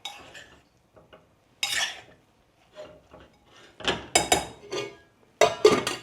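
A spoon stirs a masala mixture for a fenugreek and eggplant dish in a pan, giving irregular scraping and clinking bursts with short pauses, close and fairly loud.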